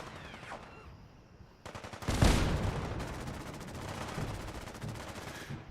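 Automatic gunfire from the video game Fallout 4, set during the Battle of Quincy, rattles as a loud sustained burst of rapid shots after a quieter opening, continuing densely to the end.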